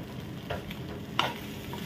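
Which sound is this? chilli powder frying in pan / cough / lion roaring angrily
chilli powder frying in pan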